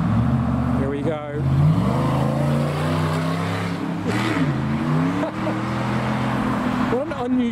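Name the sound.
car accelerating with an unusual gear change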